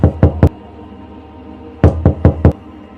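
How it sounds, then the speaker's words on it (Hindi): Knocking on a room door comes in two close, loud bursts of three sharp raps each, separated by a short pause. "किसी ने अचानक उसके रूम का दरवाज़ा फिर से खटखटाया"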